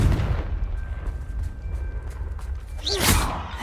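Confringo blasting spell explosion in Hogwarts Legacy, a low rumbling blast with a sharp crackling burst near the end, heard alone.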